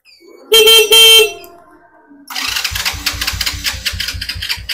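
An old motorcycle's horn gives a loud, short honk close by, then its electric starter cranks with a rapid, rhythmic churning that runs on for a couple of seconds.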